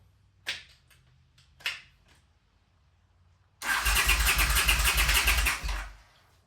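A 1979 Honda CX500 motorcycle engine cranks in two short starter bursts, then catches into a loud, steady, rumbling run for a few seconds before cutting off.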